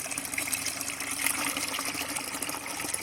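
Neem pesticide liquid is filtered, giving a continuous soft trickling, splashing flow of liquid at low volume with no voices.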